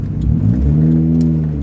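A DA9 car engine revs close and loud, its deep rising drone climbing and then holding steady at a steady pitch.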